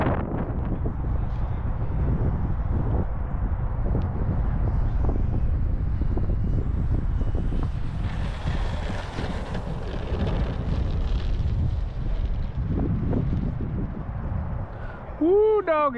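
Heavy wind buffeting the microphone in rough, rumbling gusts at an RC plane flying field, loud and constant, with a voice speaking faintly under it.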